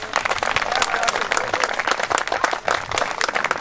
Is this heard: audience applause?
yes